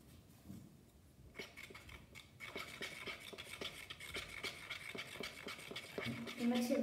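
Slime mixture is stirred in a bowl with a quick, rhythmic scraping and squelching that grows busier as it goes, close but fairly quiet, with a voice talking over it.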